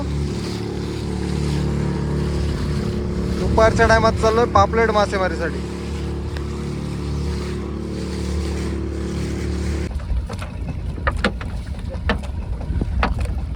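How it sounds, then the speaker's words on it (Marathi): A small wooden fishing boat heading out for pomfret fishing toward a creek runs its inboard engine with a loud, steady droning hum close by, while someone talks over it. "फायनली मशीन झालाय चालू."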